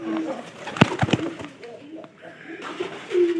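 Pigeons coo close by in soft, throaty bursts, mixed with a few sharp clicks and brief rustles.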